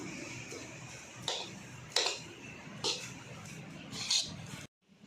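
Lapsi, a sweet cracked-wheat dish, being stirred in a pot, giving a few scraping, clinking strokes of the spoon against the metal at irregular intervals over steady low background noise.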